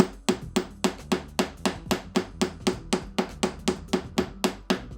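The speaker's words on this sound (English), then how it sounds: "So I come in here and I'm going to hammer just lightly to flatten." A hammer taps artistic wire on a bench block to flatten it: about fifteen light, even metallic strikes fall in a steady rhythm, close and fairly quiet, each with a short ring.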